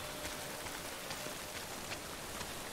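Steady rain pattering down in the video game Death Stranding, a dense even hiss with scattered droplet taps throughout, fairly soft and continuous.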